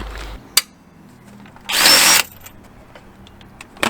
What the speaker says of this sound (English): So what we've cut to Tim taking that nut off and then hopefully it fitting.